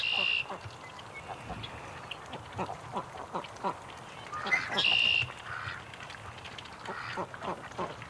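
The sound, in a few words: ducks quacking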